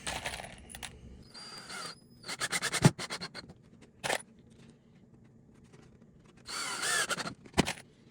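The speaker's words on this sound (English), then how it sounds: "And then throw some screws in." A power drill drives screws into a wooden stepladder tread, with several short whirring bursts separated by pauses, clicks and small clatters of handling, close by.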